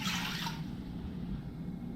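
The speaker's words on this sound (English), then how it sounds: "Now I start off with 2 cups of water." Water pours into the bottom of an 8-quart cooking pot, a bright splashing gush in the first half second that settles into a softer, steady trickle and slosh.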